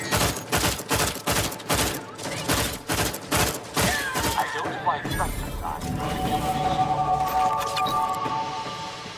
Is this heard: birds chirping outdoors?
no